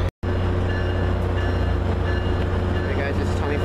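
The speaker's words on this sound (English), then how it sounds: "Here goes the north southbound tri-rail departing West Palm Beach Station" Three-car Tri-Rail commuter train with two locomotives pulling out of West Palm Beach Station southbound, a steady loud rumble of engines and rolling cars close by, after a brief moment of silence at the start.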